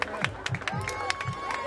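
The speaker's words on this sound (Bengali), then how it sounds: "জোরে হাততালি দাও প্লিজ।" Audience at a Diwali festival stage show clapping in scattered bursts, with crowd noise and some cheering mixed in, moderately loud and fairly close.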